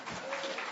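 Brief, close burst of audience clapping at a flat earth conference in Canada, steady for under a second with no one speaking.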